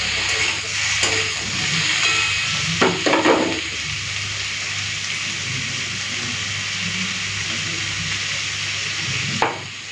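Vegetables including eggplant fry lightly in a pan, a steady close sizzle with a few clattering stirs early on and one near the end, with no talking.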